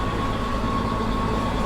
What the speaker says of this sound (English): We got a squeaking belt.